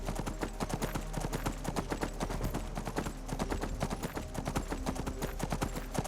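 Horse hooves clip-clopping in Skyrim, a rapid, steady galloping rhythm of hard hoof beats heard up close, continuous and without talk.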